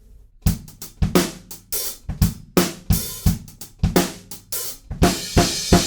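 A lively drum groove with punchy kick and snare, busy hi-hat, a little fill, and loud cymbal crashes at the end of the second bar, close and energetic throughout.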